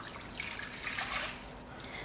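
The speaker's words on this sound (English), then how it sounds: "So we'll start by adding our water to a mixing bowl." Water is poured into a mixing bowl for chapati dough, making a quiet, steady trickling splash for a couple of seconds with no voices.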